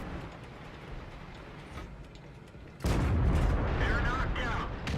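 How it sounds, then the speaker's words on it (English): A heavy boom from a tank cannon in World of Tanks, a T-54 firing on the Karkov map, erupting loudly after quieter engine rumble and lingering as a rolling blast. "I am able to get quick shots on this T-54, who is bravely trying to take out this E4."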